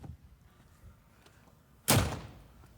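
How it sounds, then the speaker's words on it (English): A heavy vertical sliding acoustic door panel thuds into motion as it rises open after a quiet stretch, a loud broadband rush that fades over about a second. "both open buttons being operated at the same time will cause the lower panel to rise first"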